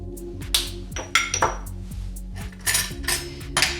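Seasoned minced meat being mixed in a bowl for a meatloaf, heard as repeated clinks and knocks of utensil against the bowl over a low background hum, with no talk.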